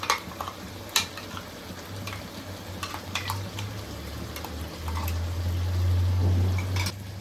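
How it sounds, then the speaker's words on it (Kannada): Ground green masala fries in oil for hotel-style donne biryani, sizzling steadily at close range while a spoon scrapes and stirs in intermittent strokes over a low background hum. "ಸೊ ಇವಾಗ ಮಸಾಲೆನೆಲ್ಲ ನೀಟಾಗಿ ಫ್ರೈ ಆಗಲಿ"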